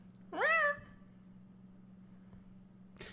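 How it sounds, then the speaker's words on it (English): A cat gives one clear rising-falling meow close by, then only quiet room hum and a faint rustle, with no talk. "Give us some meow, Freya."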